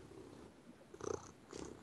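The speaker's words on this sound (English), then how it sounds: "That, everybody, is the sound of a cat eating a microphone." A cat purrs right up against a microphone, with two brief close rumbling bursts rising out of a low, quiet background.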